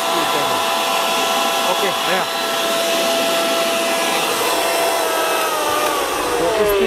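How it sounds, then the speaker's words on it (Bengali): An Orpat electric blender runs at high speed, giving a loud, steady whirring motor roar that holds nearly constant for the whole stretch, with a brief word spoken over it. "তারপর মেশিনটা চলবে দেখেন এই 1 is 3 অনেক স্পিড"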